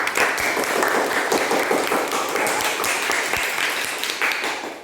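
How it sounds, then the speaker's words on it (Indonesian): A primary school class applauding a pupil named Mira, a loud, close, continuous burst of many hands clapping that holds steady and tapers slightly at the end. "Tepuk tangan untuk Mira."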